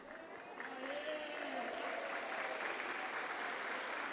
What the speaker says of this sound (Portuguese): Mais uma calorosa salva de palmas para Geraldo Rufino,